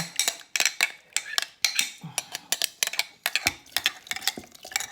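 A spoon clinks and scrapes lasagna from a baking dish in quick, irregular strokes, close and fairly quiet, with no voices.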